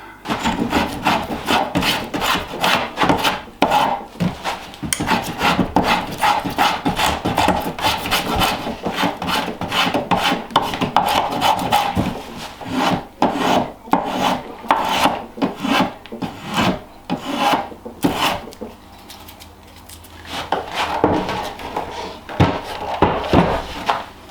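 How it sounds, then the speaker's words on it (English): A spokeshave shaves bark residue from a wooden board for a hand-tool Viking bed modeled on the Gokstad burial, giving a steady series of close, rasping scraping strokes with brief pauses, and no talk. "I will use a spoke shave and trim it off"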